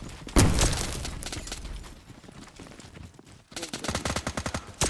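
Gunfire in the Desert Glory remake, a SOCOM-style shooter: a loud opening blast, then scattered shots and a closing rapid automatic burst of close, sharp reports.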